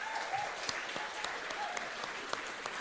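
Quiet applause from the audience at a book awards gala, a steady patter of many hands clapping at a distance, low in level, with a faint voice in the background.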